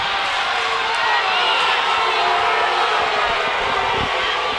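A basketball game crowd keeps up a continuous, loud roar of cheering that fills the arena evenly with no pauses.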